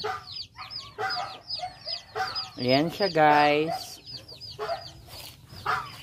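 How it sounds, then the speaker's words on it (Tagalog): Close goose calls from an old goose: short honking cackles repeat throughout, with one longer, louder honk in the middle and a brief voice mixed in. "May edad na to guys, itong gansa ko."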